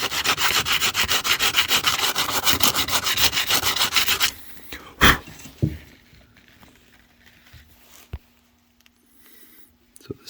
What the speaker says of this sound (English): I'm just sanding it lightly with 150 sandpaper just to get the gray off of the teak